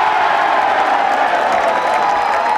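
Golf gallery at the 152nd Open roaring and cheering after a Rory McIlroy shot rolls in, a loud continuous crowd wash with no clear breaks.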